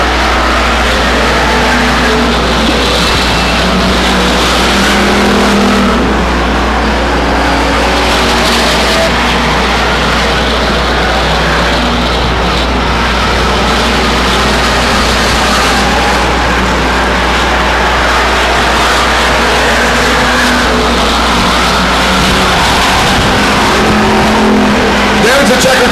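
Race cars roar around the oval at Stockton 99 Speedway in the closing laps, with loud, continuous engine drone swelling and fading as they pass, under an announcer's commentary.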